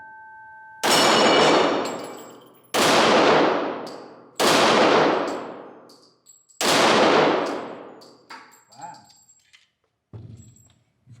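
Rock Island Armory M1911 Pro Ultra Match pistol chambered in .40 S&W fired at targets outdoors: four loud, separate sharp shots, each ringing out in a long decaying tail, then a few softer clanks and handling noises.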